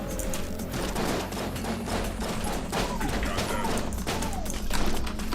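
Rapid gunfire in the video game Enter the Gungeon, dense overlapping shots and bursts crackling continuously at a steady loudness throughout, with game sounds layered beneath.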